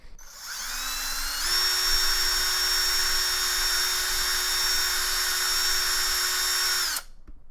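A small drill bit spins up with a rising high whine and keeps a steady, close, shrill tone for several seconds while enlarging a hole in a drone frame, then stops abruptly.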